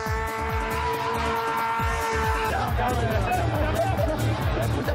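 At a tuning drift show, a car drifts at full speed. Tires squeal loudly in a sustained screech that breaks off partway, while the engine roars and revs in pulsing bursts over crowd chatter.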